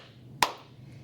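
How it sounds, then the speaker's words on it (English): A single sharp hand clap rings out once in a quiet room, brief and fairly close, fading quickly into near silence. "If you'd like to read a book, clap your hands."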